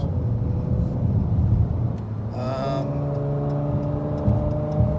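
A Dodge Challenger SXT Plus AWD V6 engine hums steadily, then its pitch climbs as it accelerates, a smooth rising whine over low road rumble.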